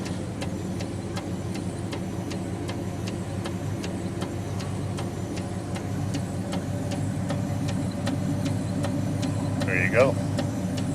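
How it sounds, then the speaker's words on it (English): A 1940 Nash car engine idles steadily nearby with a low rumble and a regular light ticking, while someone speaks briefly near the end. "So I'm going to go ahead and start the car"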